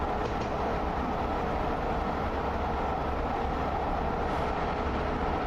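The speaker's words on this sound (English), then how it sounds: "just driving an Amtrak Illinois Zephyr down here to Plano" Amtrak Illinois Zephyr passenger train running in a train simulator game, a steady loud broadband rumble and rolling drone that holds constant throughout, with no voices.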